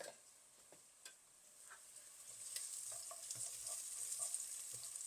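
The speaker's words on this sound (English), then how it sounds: "Let them saute, and then we're gonna add our ginger and garlic" Onions sautéing in a pan during home meal prep, a soft steady sizzle with occasional stirring clicks and scrapes, fairly quiet and with no talk.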